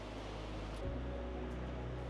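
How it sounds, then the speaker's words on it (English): Rushing river water pours steadily past an old water wheel in need of restoration, a continuous broadband roar that stays close and even, with a slight swell partway through. "You can still feel the rushing water"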